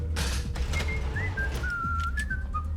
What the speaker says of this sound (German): Jetzt höre ich ihn pfeifen